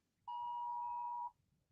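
A single steady electronic tone sounds for about one second, clean and fairly loud over a quiet background, resembling an old dial-up or emergency alert beep from a phone.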